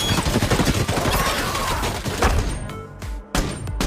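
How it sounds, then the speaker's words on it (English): A heavy machine gun hammers out rapid, loud bursts of fire that blur into a dense roar, then break into a few separate sharp shots toward the end. "she mounted the heavy machine gun and joined the fight"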